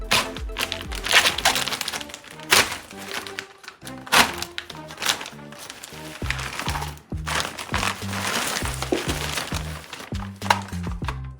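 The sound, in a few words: opening a NERF toy gun box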